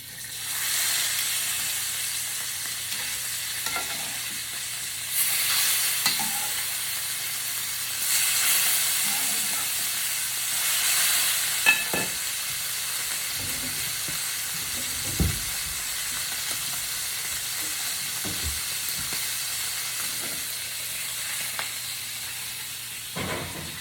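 Food fries in a hot skillet, crackling and sizzling with hissy bursts and occasional clinks and stirring knocks, moderately close and without talk.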